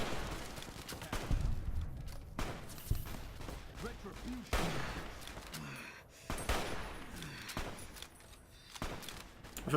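Gunfire in the video game Fallout New Vegas: a run of sharp, loud shots and bursts spaced irregularly across the clip, each with a short decaying tail, during a fight against enemies who keep coming.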